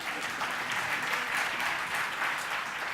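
A panel discussion audience claps in a steady, even round of applause, many hands close together at constant volume with no talk over it.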